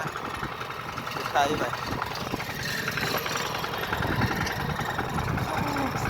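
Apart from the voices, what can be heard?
farm tractor engine running while riding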